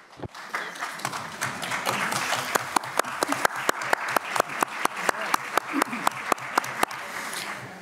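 An audience at a panel talk on promoting women artists applauds after a speaker finishes, a dense wash of clapping with a few sharp, prominent individual claps standing out rhythmically near the microphone.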